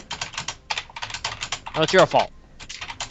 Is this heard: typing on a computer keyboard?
yes